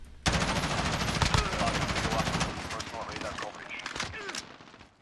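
A captured rifle with heavy muzzle flash fires on a night-vision raid in Modern Warfare: a loud, rapid automatic burst up close that thins into scattered shots and echoes while a voice talks over it.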